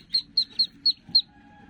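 Newly hatched ducklings give five short, high, evenly spaced peeps close by, with a faint low rustle underneath and a thin steady tone near the end.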